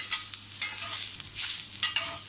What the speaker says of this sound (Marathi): म्हणून मी हे भिड्यावर कांदा लसूण भाजते आहे।